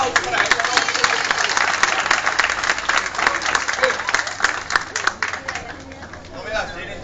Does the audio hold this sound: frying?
no